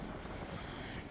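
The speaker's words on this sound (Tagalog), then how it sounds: "Mahangin lang at malamig." Wind gusts across an open outdoor yard beside a large backyard shed on a cold day in Canada, a steady broadband rush with no pauses, loud and close on the microphone throughout.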